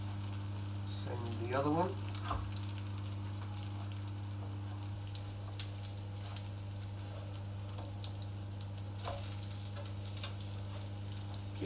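Sweet potato cakes sizzling in hot fat in a frying pan, a steady low frying hiss throughout, with a few clinks and a brief voice partway.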